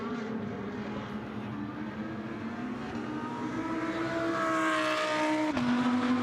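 GT2 race cars at Spa-Francorchamps roar past together, engines building to a loud high-revving howl that swells toward the end as the pack crosses the line.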